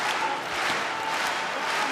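Crowd noise at an OKTAGON 42 MMA fight during the opening bout, a steady dense roar of cheering and applause from a packed arena, with no gaps across the moment.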